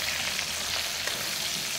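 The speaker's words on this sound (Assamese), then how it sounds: "এয়া মাছখিনি ফ্ৰাই কৰি লৈছোঁ" Fish pieces half-fry in hot oil in a kerahi wok, giving a dense, continuous close-up sizzle with fine crackling spatter throughout and no voices.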